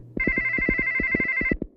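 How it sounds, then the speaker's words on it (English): A cell phone ringtone rings out loud and close: a bright, sustained electronic melody with a steady pulsing beat, running for over a second before cutting off, with no talking. "And then my cell phone rings."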